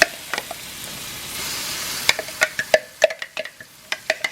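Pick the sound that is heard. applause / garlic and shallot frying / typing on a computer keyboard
garlic and shallot frying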